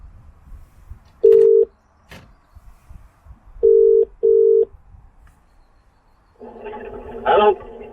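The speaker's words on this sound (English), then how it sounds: "let's give him a quick ring" A phone ringback tone sounds in three short steady beeps with gaps between them, followed by a brief burst of voice as the line picks up.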